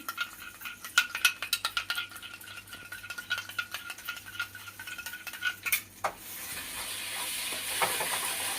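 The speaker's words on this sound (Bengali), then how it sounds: "এতে 1 চামচ দই নিয়েছিলাম, সেটাকে ফেটিয়ে দিচ্ছি।" A spoonful of yogurt being whisked with a spoon in a small bowl for pabda fish curry, rapid clinking taps in quick succession, followed by a soft hiss.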